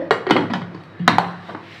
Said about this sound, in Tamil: இப்போ குக்கர் மூடியை போட்டு